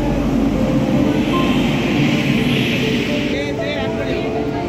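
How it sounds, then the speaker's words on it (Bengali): Bhagirathi Express train arriving at a station platform, a loud continuous rumble with a high screeching squeal near the end. "আমাদের ট্রেন চলে এসছে"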